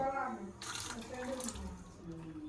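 Water gushes from a tap in a steady hiss lasting about a second, while voices murmur in the background.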